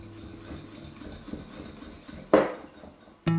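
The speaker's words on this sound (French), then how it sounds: "Je mélange le tout." Curry powder and flour mixed in a bowl for breading squid: quiet soft rubbing, then a sharp utensil scrape against the bowl and a final clink, no talking.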